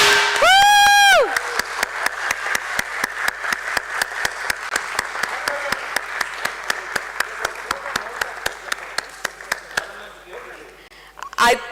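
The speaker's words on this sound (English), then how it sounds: "we can give a little more applause" At the listing ceremony of Tolins Tyres Limited on the BSE trading floor, a brief rising electronic tone opens, then the audience claps in a steady rhythmic beat with crowd noise underneath, ending in a short louder burst.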